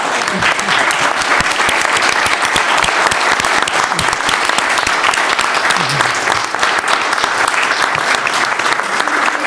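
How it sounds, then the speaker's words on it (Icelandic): A packed hall of listeners claps for the candidates at the end of an Icelandic foreign-policy panel, dense sustained applause filling the room at full volume from start to finish. "Klappa fyrir þáttakendum."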